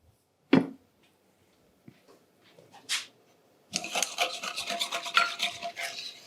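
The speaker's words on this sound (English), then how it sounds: "Whisk it as best you can." Flour being whisked into a cream-puff filling in a cottage kitchen: a few isolated scrapes and knocks at first, then fast, rhythmic wire-whisk scraping against the bowl, steady and close.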